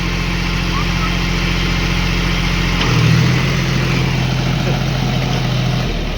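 A tractor engine idling steadily at close range, a low continuous rumble that shifts slightly in pitch partway through but never stops, with faint background noise over it.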